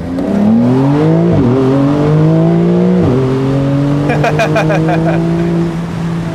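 A 2020 Porsche 911 Carrera 4S accelerates hard from inside, its engine note climbing loudly through two quick upshifts, with a steady high-pitched whine riding over the roar late in the run.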